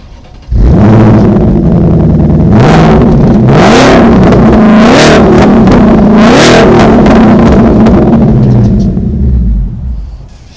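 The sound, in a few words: Ford Mustang Shelby Super Snake Borla quad exhaust revving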